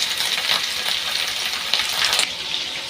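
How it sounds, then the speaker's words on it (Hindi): Minced-meat kebabs fry in hot oil on a low flame, giving a loud, steady, bubbling sizzle with small crackles throughout. "इसको हमको लो फ्लेम पे हम इसको फ्राई करेंगे, हल्का ब्राउन होने तक का।"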